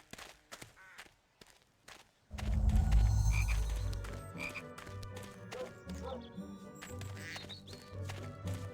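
Chocolate frog croaking in the Harry Potter and the Chamber of Secrets video game, a loud burst of low croaks starting a couple of seconds in after a quiet stretch, followed by repeated croaks and game sounds.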